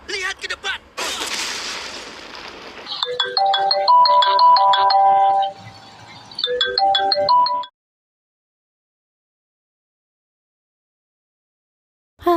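A phone ringtone in the Sakura School Simulator video game plays a bright, melodic electronic tune for about five seconds after a burst of noisy game sound, then stops and leaves silence.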